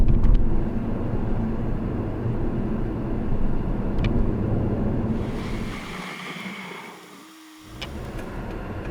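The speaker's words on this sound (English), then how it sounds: "A car moves onto the wrong side of the road in order to pass in front of the car filming." A car swings onto the wrong side of the road to overtake, heard as a loud, close rush of road and wind noise that fades near the end before the rumble picks up again.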